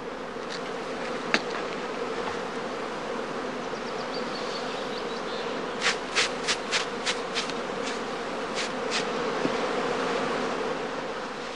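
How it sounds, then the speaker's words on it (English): A swarm of honeybees around straw skeps makes a dense, steady buzzing drone throughout, with a few sharp ticks and taps rising above the hum, fairly close. "where the beekeeper waits for the second swarms, or casts, to emerge from the skeps."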